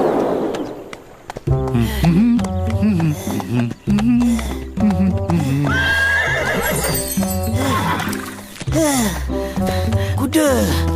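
A horse neighs and whinnies repeatedly in a horse and donkey folk tale, with breathy snorts and a brief clip-clop of hooves, loud and close.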